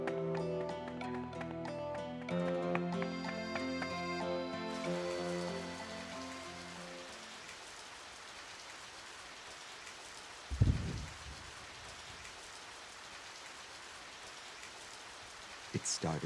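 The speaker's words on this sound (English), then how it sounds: "It started to rain." Rain falls in the video game Radiant Historia, a soft steady patter rising under the game's music as it fades out, with a brief low thud partway through and faint speech at times.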